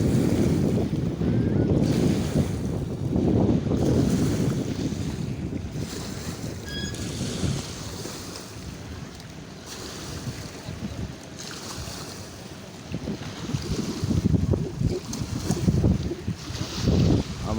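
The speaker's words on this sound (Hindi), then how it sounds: "ये जो शोर आपको सुनाई दे रहा है पानी का" Water noise on a lake during a boating trip at Khanpur, a steady rushing wash with wind buffeting the microphone, loud and continuous throughout with surges and dips.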